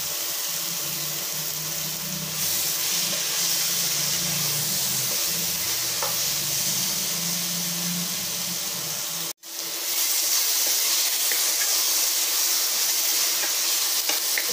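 Vegetables sauté in a pan for a bottle gourd biryani, a steady close sizzle and hiss that runs on continuously with a brief cut partway before the frying resumes just as loud.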